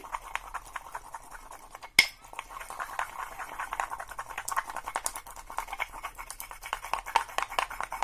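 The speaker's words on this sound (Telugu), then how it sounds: "ఇది బాగా మిక్స్ అయ్యేలా నూరాల్సి ఉంటుంది" Turmeric powder is ground together with aloe vera to mix it, giving faint, steady scraping and gritty rubbing strokes with a single sharp knock near the start, quiet and close with no talk.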